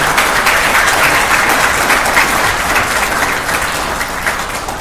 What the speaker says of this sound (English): So if you give them a big round of applause as well.